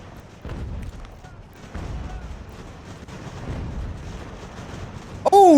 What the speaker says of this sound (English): I love watching the cannons actually land hits.